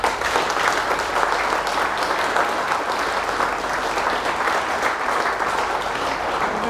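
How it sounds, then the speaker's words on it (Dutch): Steady, dense applause from an audience at a local veterans' day ceremony honouring a veteran in Almelo, sustained without a break from start to finish. "als ik u vraag een applaus voor hem te hebben"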